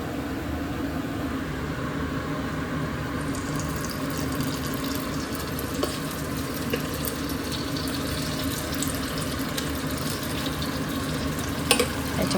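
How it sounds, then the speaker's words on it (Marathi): Dahi vada batter dropped into hot oil in a kadai, a steady dense frying sizzle that runs unbroken throughout, close and fairly loud, with faint clinks near the end. "इकडे कढई पण गरम करत ठेवली. मस्त असं तेल गरम झालं आहे. तर चला आता सोडते एक एक."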